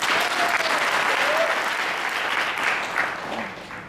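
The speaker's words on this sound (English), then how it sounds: "I applaud the two speakers, Vivica and Angela." Applause from a conference audience thanking the speakers: steady, dense clapping from many hands throughout, fairly loud and continuous, easing slightly toward the end with no talk over it.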